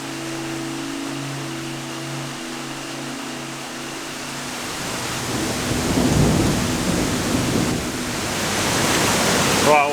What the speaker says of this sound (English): I'm not sure if you guys can hear me over the rain or not, but it is absolutely belting down right now